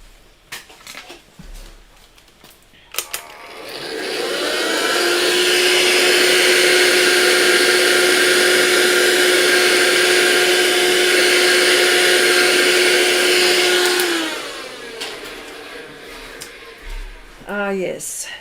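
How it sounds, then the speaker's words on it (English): A vacuum cleaner starts up and runs loud and steady for about eleven seconds before cutting off, with light handling noises around it, used to tidy pastel dust from a cockatoo painting. "Let me just vacuum this, please."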